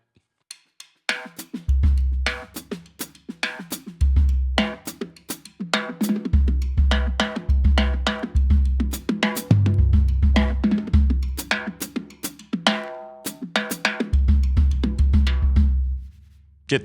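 A hand drum played in lively patterns, deep bending bass strokes mixed with sharp ringing slaps and taps, tabla-like in character.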